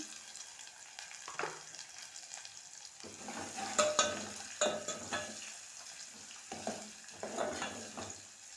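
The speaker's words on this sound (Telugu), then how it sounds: "చూడండి ఉల్లిపాయలు వేస్తున్నాను ఉల్లిగడ్డలు" Sliced onions sizzling in a pan on a home stove, stirred in several scraping bursts over a steady frying hiss, close by and without talk.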